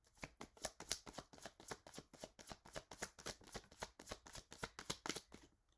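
Tarot cards are shuffled up close in a quiet room, a continuous run of crisp riffling slaps and flicks in a fast, fairly even rhythm.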